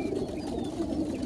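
Racing pigeons coo softly and continuously at a 50-mile training release spot on a cool, clear morning with a light breeze, a low murmuring drone of many birds close by.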